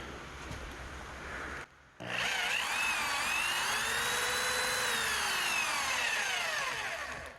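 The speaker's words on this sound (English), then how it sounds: "we're going to do is limit our drilling to the rubber right around here" A power drill bores through a rubber bushing on a 1973-1987 GMC/Chevy truck front end, grinding steadily with a rising and falling whine, briefly stopping then resuming for several seconds, loud and close.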